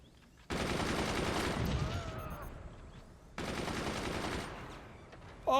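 Weapons firing in the strategy game Forts produce two long, dense bursts of rapid rattling gunfire, close and loud, separated by a short quieter gap, with a sharp new shot at the very end.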